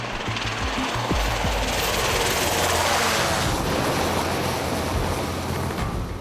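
Coast Guard helicopter flying along a rugged coastline, a loud, steady rotor roar with broadband wash that holds constant throughout, no voices.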